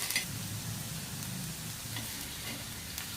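Onion frying on a griddle until golden for Maharashtrian egg bhurji, a continuous close sizzle with faint crackles and occasional scraping stirs, no one speaking.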